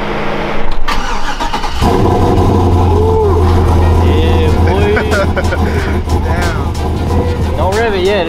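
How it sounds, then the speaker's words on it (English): A Chevrolet Avalanche pickup truck starting cold: a sharp crank catches into a loud, steady mid-pitched idle close by, with people talking over it. "Don't rev it yet, it's too cold."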